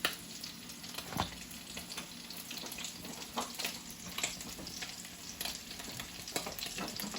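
Meatballs sizzle and crackle in a hot frying pan, a steady close fry with scattered pops and small stirring clicks, no one speaking.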